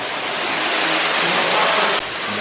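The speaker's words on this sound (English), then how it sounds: "Look at this. The waterfall pouring down there." Inside Marvel Cave, a waterfall pours down with a loud, continuous roar and rushing spray. The sound is close and fills the whole clip.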